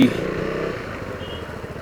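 Motorcycle engine running and pulling away on a road trip out of Bangalore toward Himavad Gopalaswamy Betta, a steady low rumble fading slightly over a couple of seconds with no talk.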